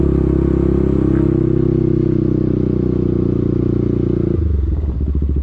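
A loud modified Bajaj Pulsar 200NS motorcycle engine rumbles with a deep, throaty exhaust, holding steady before the tone shifts and drops near the end; no voices.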